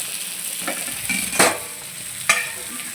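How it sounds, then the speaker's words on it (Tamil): Steady bubbling and sizzling of a fish curry simmering in a pot, with a couple of brief louder scrapes or clinks from a utensil, no voices. "கொதிச்சிருச்சு பாருங்கள் இது மாதிரி எல்லா பக்கமும் நல்லா கொதிச்சிருச்சுன்னா குழம்பு இறக்கிடலாம்"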